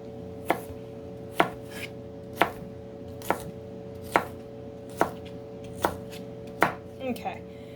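Knife chopping jalapeno pepper on a board for burrito-in-a-jar prep: about nine evenly spaced, crisp close chops, roughly one per second, with a steady low hum underneath and no talking.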